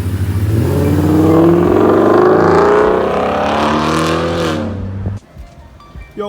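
The LS1 V8 swapped into a 1956 GMC 3100 truck revs up loudly and close, its pitch climbing and holding for several seconds before dropping back, then the engine cuts to a lower idle.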